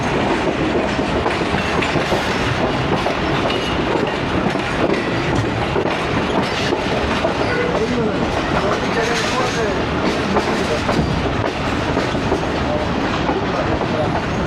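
The old AC sleeper coach of the 8DN Tezgam train runs from Rawalpindi toward Lahore as it arrives at Wazirabad Junction, with a loud, continuous rumble and clatter of the rolling coach heard from inside.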